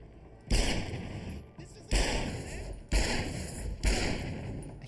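Four heavy, evenly spaced gunshots in Deus Ex: Human Revolution, each a loud thudding blast with a decaying tail, about one second apart.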